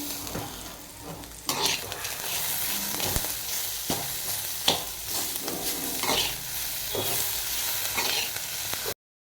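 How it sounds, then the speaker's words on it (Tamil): Tamarind and coconut pieces sauté in a hot pan, a constant sizzle broken by the scrape and clatter of a spoon stirring every second or so. "இந்த புளியும் இந்த தேங்காய் பல்லையும் சேர்த்து வதக்கிக்கலாம்"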